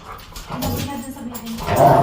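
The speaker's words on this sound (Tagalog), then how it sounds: "Kung tumahimik kayong dalawang aso, ayan na naman kayong dalawa." Two dogs bark and whimper indoors, producing short yips and whines that rise toward the end, mixed with background household noise.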